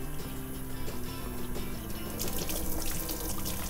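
A sink tap runs steadily during hand washing, a close, even rush of water with a splashing texture that grows slightly brighter toward the end.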